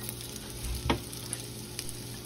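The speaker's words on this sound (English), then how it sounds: "And it's time to start frying." Steady, low-level sizzling of minced garlic frying in a pan, with a soft scrape of stirring partway through.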